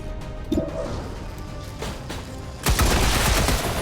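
Gunshots in the turn-based tactics game XCOM 2, a brief crack early, then a loud sustained burst of fire near the end, booming and dense.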